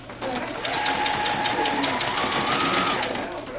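Sewing machine running steadily as it stitches a few finishing stitches on doll bloomers, a continuous close whirring hum for several seconds.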